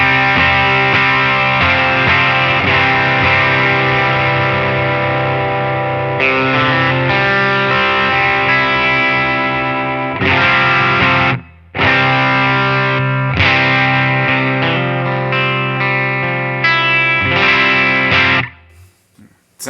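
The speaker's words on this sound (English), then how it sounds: "Sounds like a tube screamer." An electric guitar runs through a Tube Screamer 808 overdrive model on a Line 6 Helix, playing loud, sustained, warmly driven chords and notes with a couple of brief stops before ringing out to the end.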